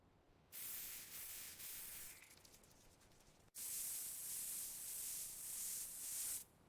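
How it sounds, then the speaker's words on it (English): Hissing bursts of a spray bottle misting a runner's neck near a marathon finish line, several short sprays followed by a longer, louder continuous spray, close and without talk. "Spray your neck."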